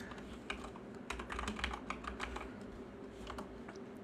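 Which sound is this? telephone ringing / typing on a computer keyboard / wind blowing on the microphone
typing on a computer keyboard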